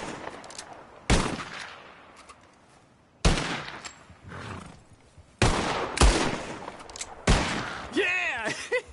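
Gunfire in a shooting contest in Red Dead Redemption 2. Four loud, separate shots ring out a couple of seconds apart, each trailing into reverb, with a horse whinny near the end.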